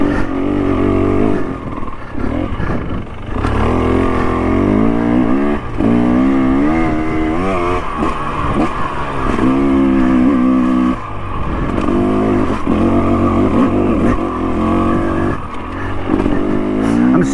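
A 2023 KTM 300 XC two-stroke dirt bike rides along a brushed-back wooded trail, its engine loud and close throughout, repeatedly revving up and easing off as the rider works through the terrain.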